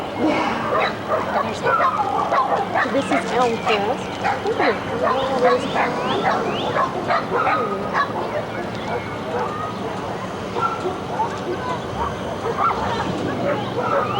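Dog barking and yipping repeatedly below a hot air balloon drifting over tidy Cedar Rapids backyards, distant but clear barks in bursts across the whole stretch, with people talking over them.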